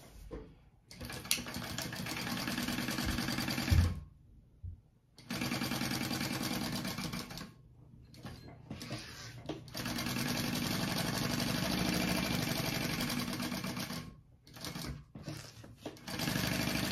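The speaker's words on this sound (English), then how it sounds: "you're gonna go ahead and baste your pocket shut" A sewing machine bastes a pocket shut on a crossbody bag, running in several bursts of rapid, even stitching separated by short silent pauses.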